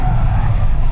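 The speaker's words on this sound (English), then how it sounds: "you do still have AMG's fully switchable rear drive drift mode" Mercedes-AMG GT63 in rear-drive drift mode, a short loud burst of engine roar and tyre noise, close by with no talking.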